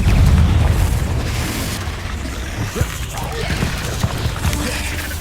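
In the Hogwarts Legacy video game, the Confringo spell goes off with a deep booming blast that rumbles and decays, followed by scattered smaller crackles and pops at moderate loudness.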